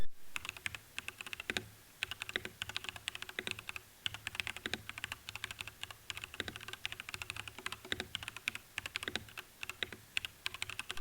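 Rapid typing on a HATOR mechanical keyboard with linear and clicky switches and PBT double-shot keycaps, a steady stream of crisp clacky keystrokes up close with no speech.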